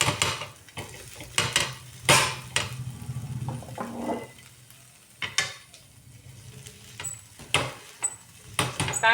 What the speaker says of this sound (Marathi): पण मी हे तांब्याने बारीक करून घेते थोडंसं.